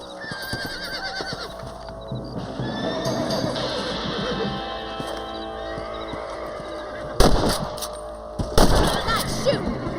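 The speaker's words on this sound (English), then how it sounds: "Nice shooting." Rifle gunfire in Red Dead Redemption, two sharp, loud cracks late on, after a stretch of horse whinnies and a busy background of outdoor game sounds.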